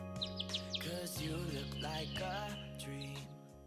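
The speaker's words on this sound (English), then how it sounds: "I heard birds at the end." Birds chirp in the Cupid Parasite video game: a few quick, bright tweets near the start, layered over steady background music that continues throughout.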